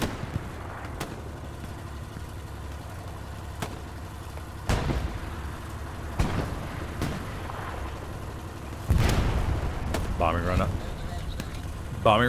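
Bombing run explosions in the Hell Let Loose video game, several heavy low booms spread across the stretch, the biggest rolling in near the end, with background battle rumble and people talking over it.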